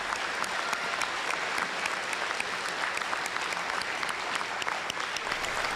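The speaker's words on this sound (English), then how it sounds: "Please join me in a round of applause to show our appreciation." A commencement audience at Northland's Thief River Falls campus applauds the college faculty, a dense, steady roar of many hands clapping that holds at an even level throughout without a break.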